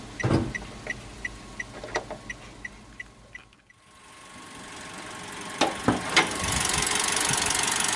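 A 2018 Toyota Calya's 1200cc four-cylinder, 16-valve engine idles steadily with a light, regular ticking at first, then settles into a smooth, louder hum. No one speaks.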